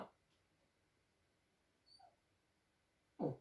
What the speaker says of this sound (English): What was that wee yelp for the doggy?